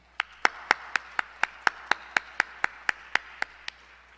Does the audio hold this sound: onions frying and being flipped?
no